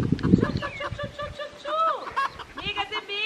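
Chickens cluck and chatter nearby in short bursts on a farm, mixed with a person's voice talking over them.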